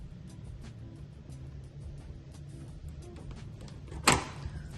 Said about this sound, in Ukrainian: Роздвижні двері